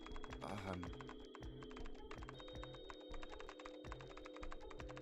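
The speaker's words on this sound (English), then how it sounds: "I love just like the click-clack of keys." Keyboard keys click and clack in a quick, uneven typing rhythm, close and crisp, over a steady sustained tone in the background.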